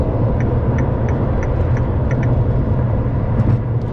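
A LaFerrari's engine drones steadily at close range while driving, a continuous low rumble with road noise and faint ticking, no voices.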